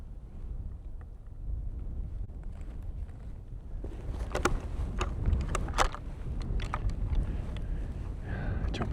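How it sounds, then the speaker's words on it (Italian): Wind gusts across an open mountainside during a hunting trip, a steady low rumble of buffeting against the microphone, rising stronger partway through with scattered faint clicks and knocks. "C'è un po' di vento."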